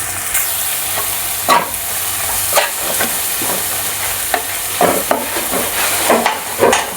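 Mutton fries with ginger garlic paste for a Kolhapuri-style mutton fry, giving a continuous close sizzle with repeated scraping and clanking strokes of a spatula, no talking.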